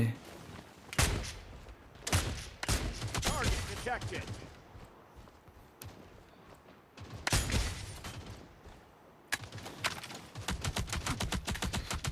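Gunfire in the mobile shooter Modern Strike Online, with bursts of rapid automatic shots in several clusters separated by short pauses, loud and close, with someone talking in between.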